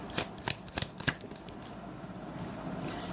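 Tarot cards being shuffled, a handful of sharp papery flicks and slaps in a brief irregular burst, then soft steady background hiss, close and quiet.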